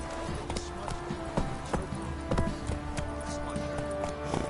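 Roach the horse galloping in The Witcher, a quick steady clatter of hoofbeats at moderate level, continuous throughout with faint background ambience and some voice.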